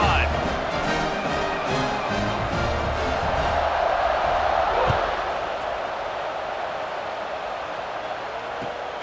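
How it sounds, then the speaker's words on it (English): A football stadium crowd roars and cheers after a touchdown drive, a broad, sustained wash of noise that slowly eases, with an announcer talking over it. "this crowd is feeling themselves after that last drive"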